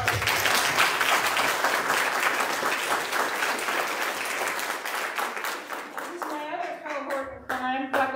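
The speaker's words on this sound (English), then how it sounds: "Big round of applause." A crowd at a book launch event claps steadily for several seconds, the applause fading out near the end as a voice begins speaking.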